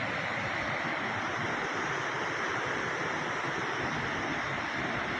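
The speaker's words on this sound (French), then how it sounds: "Là, la cascade de la Combe, ça vaut le déplacement." Steady broadband roar of the Cascade de la Combe waterfall in the Jura, a constant dense rush of falling water close by, with no talk over it.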